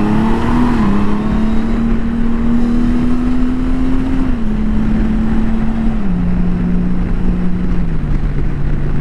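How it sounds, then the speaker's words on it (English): A motorcycle in sport mode accelerating hard on a cold autumn ride, a loud, steady engine drone close to the microphone whose pitch climbs and then drops in steps as the gears shift. "got the bike in sport mode"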